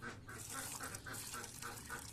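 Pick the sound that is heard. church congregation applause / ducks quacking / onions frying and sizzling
ducks quacking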